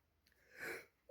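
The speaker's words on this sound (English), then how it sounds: "Oh wait, I need to sneeze." A single sneeze, a short inhale building into a burst of breathy noise, close and fairly quiet, followed by a brief sound at the end.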